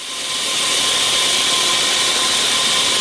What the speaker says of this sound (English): I will show you shots of me grinding this